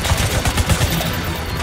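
Rapid automatic gunfire in the video game The Division 2, a dense burst of repeated shots over a rumbling battle bed, loud and continuous for under two seconds.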